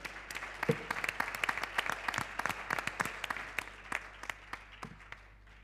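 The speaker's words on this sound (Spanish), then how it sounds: "Un aplauso muy fuerte desde el Congreso." Audience applause at a medical congress during a live case session, a steady wash of many hands clapping with sharp individual claps standing out, moderately loud and sustained throughout.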